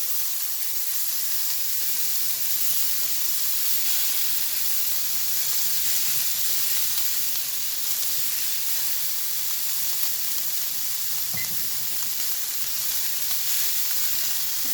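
White onion sautéing in a pan for rasta pasta, a steady close sizzle and hiss running throughout with no talk, with a brief soft knock near the end.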